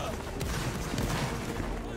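Musket volleys crackle through a multiplayer war game battle, scattered shots and booms layered into a dense, rumbling mix of mid-distance gunfire, with voices murmuring underneath.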